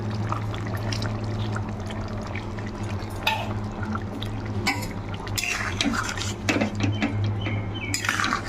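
Fried prawns and cauliflower being stirred together in a pan, with scraping utensil clatter, metal clinks and soft sizzling and liquid sounds running steadily throughout.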